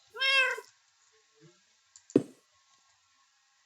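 A house cat gives one clear, close meow at the start, followed by near silence with a few faint soft sounds and a brief sharp knock.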